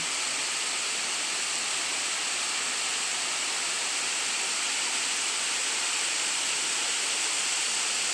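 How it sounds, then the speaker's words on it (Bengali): Steady, dense rain falls outside onto wet streets in a pre-monsoon shower, a loud unbroken hiss with no pauses and no voices. "বর্ষা আসার আগে আগে এই বৃষ্টি হচ্ছে"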